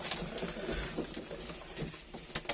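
A pigeon at its new loft gives soft cooing calls close by, with faint wing flutters and small taps under a quiet background.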